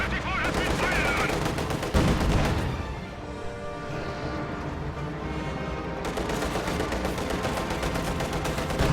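A real-time strategy game battle with a T-34 tank, full of dense gunfire, machine-gun bursts and heavy crashing blasts that keep up loud and steady, while a commentator's voice runs over the top.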